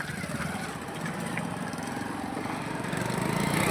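A vehicle engine runs steadily as it pulls away, a continuous rough drone that grows slightly louder toward the end.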